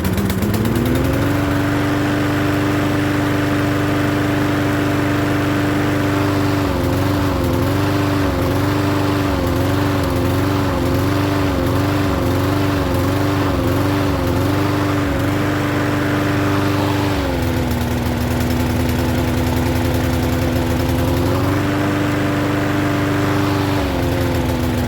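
A Troy-Bilt lawn mower engine idles steadily after starting, a loud, close, continuous drone with a wavering, pulsing stretch in the middle and slight dips in pitch later, no voices.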